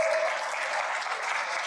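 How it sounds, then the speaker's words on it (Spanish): Congregation applause at a Spanish-language evangelism seminar session on the doctrine of salvation, a steady dense wash of clapping at moderate volume that holds evenly throughout with no talk over it. "Vamos a dar un aplauso fuerte a Jesús."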